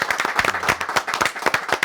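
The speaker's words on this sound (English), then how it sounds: "A round of applause for the Mobo Awards" Audience applause at a live comedy show, a short burst of brisk clapping with slightly rhythmic peaks, moderately close and continuous.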